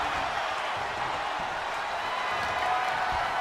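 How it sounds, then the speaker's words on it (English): A community wrestling crowd roars in a steady, dense wash of cheering and clapping that stays loud and unbroken throughout, with no distinct voices standing out. "The crowd absolutely excited here."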